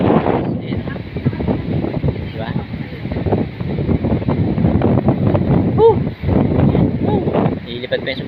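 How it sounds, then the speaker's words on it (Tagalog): Strong wind gusts buffet the microphone outdoors in a steady, loud roar, with a person speaking briefly over the blustery noise. "Narinig nyo ba yung ihip ng hangin?"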